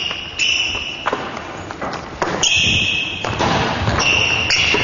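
A basketball thuds on a gym floor in a few heavy, irregular bounces during an indoor shooting drill, with shoe squeaks and a ringing tone in the hall.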